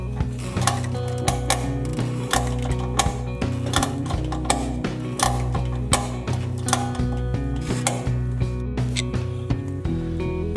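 A ratchet tightening the front track bar bolt on a Jeep Gladiator Rubicon diesel during a suspension install, rapid repeated metallic clicks in bursts, close and loud over a low hum.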